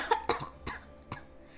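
A person coughs four or five times in quick, uneven bursts after a piece of fruit goes down the wrong way, close and moderately loud with no talking.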